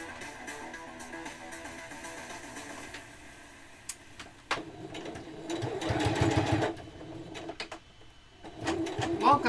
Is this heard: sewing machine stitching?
yes